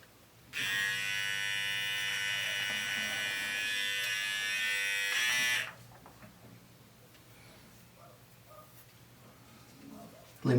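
A Ufree all-in-one beard trimmer and hair clipper runs with a loud, steady electric buzz for about five seconds, then switches off, leaving quiet room noise and faint background sounds.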